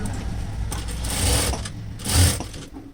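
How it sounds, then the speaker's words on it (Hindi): A sewing machine stitches pant fabric in quick motorized bursts, its rapid needle rattle rising and pausing twice, close and loud with no speech. "और यहाँ पे लगा देंगे हम इसे सिलाई"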